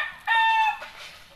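A rooster crows once in a loud, close, clear call in a rural province setting, then the call tails off into quiet background.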